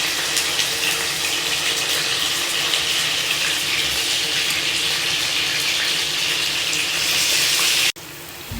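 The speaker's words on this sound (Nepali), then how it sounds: "अब यो टुना फिस चाहिँ 1 by 1 फ्राई गर्न राखेँ मैले" Tuna fish pieces frying one by one in a pan for a Nepali tuna curry, giving a loud, steady hiss that runs unbroken before cutting off abruptly near the end.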